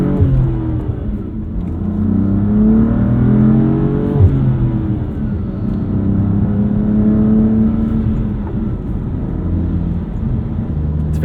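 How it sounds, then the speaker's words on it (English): A 2016 BMW M3 engine heard from inside the cabin: a steady, smooth, muffled drone with rising and falling tones as the engine revs under acceleration, continuous throughout with road rumble beneath it. "I really dig the noise this car makes from the cabin."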